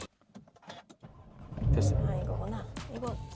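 A Porsche 911 engine cranks and catches at about 1.5 seconds, then settles into a loud, steady idle heard from inside the car, with people talking faintly beforehand.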